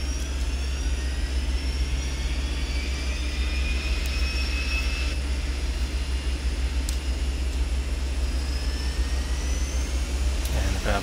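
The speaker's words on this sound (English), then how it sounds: "I'm going to start the second engine." Second engine of a Beech Duke BE60 twin starting up in the FSX flight simulator, a steady loud engine drone with rising whining tones over a constant low rumble and a few faint clicks.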